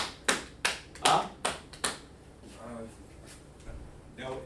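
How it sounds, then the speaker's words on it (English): Five or six sharp, separate hand claps in a quick row during a word-structure class, followed by quieter murmuring voices. "Clap it up."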